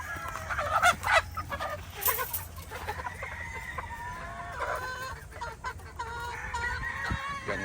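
Young stags, yellow-legged hatch chickens raised from eggs, cluck and crow up close in a busy yard, with steady overlapping calls and a few louder squawks.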